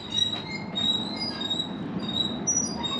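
A mystery windmill squeaks as it drives an alternator that drags down its power. Thin, high squeals repeat over a steady low mechanical rumble throughout, with no voices.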